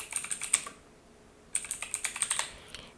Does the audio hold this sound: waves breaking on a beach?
no